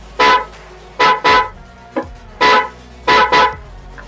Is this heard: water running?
no